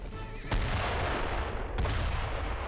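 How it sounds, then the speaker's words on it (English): Mortar shells pound a fort in the real-time strategy game Age of Empires 3, two sharp loud blasts about a second apart, each followed by a rumbling, crackling battle wash. "And mortars now engaging the fort."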